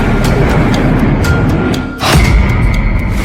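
A loud, continuous rumbling roar from a Ukrainian drone attack explosion, dipping briefly and then bursting into a sharp crack and heavy boom.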